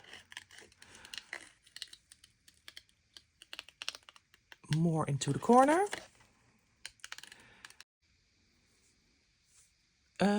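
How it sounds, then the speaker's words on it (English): Scissors snip paper around a stamped image, leaving a small white border: a series of short, quiet close-up cuts and rustles, with a brief stretch of talk in the middle. "I'm cutting with a small white edge around this stamped image."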